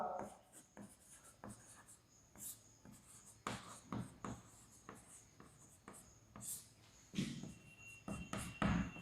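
Pen writing an answer by hand during a class 9 maths lesson on coordinates, with soft, close scratching strokes in irregular bursts and pauses, quiet throughout.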